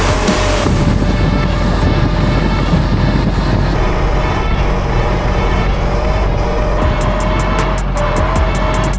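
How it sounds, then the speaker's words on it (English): Strong wind roars against the microphone while riding a Sur Ron electric bike, a loud, continuous rushing with a faint steady whine running underneath throughout. "I didn't plan on the wind pushing us this hard"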